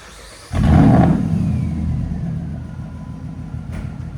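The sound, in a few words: 2006 Ram 1500 5.7L HEMI V8 straight-pipe exhaust revving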